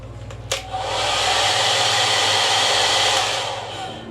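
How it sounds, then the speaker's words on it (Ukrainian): A hotel-room hair dryer in Egypt clicks on and blows with a steady, loud whooshing hum before winding down at the end. "І фен також в наявності."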